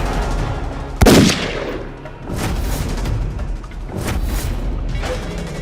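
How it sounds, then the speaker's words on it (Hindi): A sudden loud gunshot cracks out at a party in a TV drama, followed by a short echoing tail and then a lower dramatic rumble with no talk. "मानो राजीव पर पार्टी में गोली चल गई"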